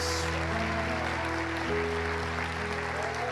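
Church congregation applauding during a sermon, a steady wash of clapping over a sustained musical backing with held tones, moderately loud and continuous.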